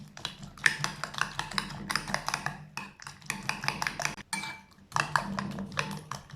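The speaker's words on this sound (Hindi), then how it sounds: "दोबारा से 2 मिनट के लिए अच्छे तरीके से मिक्स कर लेंगे।" A spoon beats an omelette egg mixture with spices in a bowl, rapid rhythmic clinks and taps in bursts with short pauses, near and alone.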